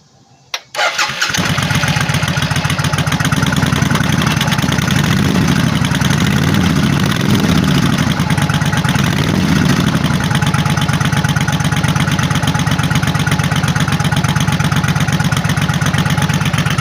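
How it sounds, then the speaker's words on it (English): A Suzuki Intruder cruiser motorcycle with custom exhaust starts up and settles into a loud, steady, deep idle that rumbles continuously. "I am going to start it up so you can hear what the engine sounds like."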